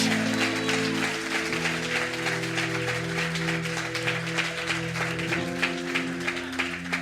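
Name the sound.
applause from church congregation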